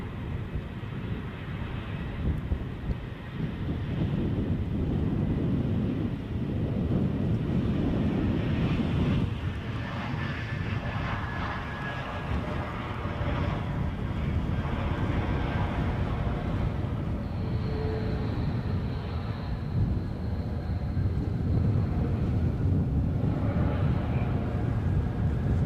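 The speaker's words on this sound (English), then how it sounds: "Incoming A321neo from Istanbul, courtesy of Turkish Airlines." Turkish Airlines Airbus A321neo arriving at Edinburgh airport from Istanbul, a distant low jet rumble mixed with steady wind buffeting the microphone, swelling slightly through the passage with a faint whine in the middle.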